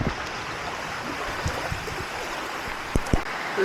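Floodwater in Thrissur pours through gaps, a steady rushing flow up close with occasional faint knocks.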